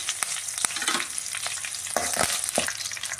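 Urad dal, fenugreek seeds, dried red chilies and curry leaves fry in hot oil for a kuzhambu, a steady close sizzle broken by a few sharp crackles and spoon scrapes.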